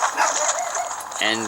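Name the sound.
Chihuahua dog barking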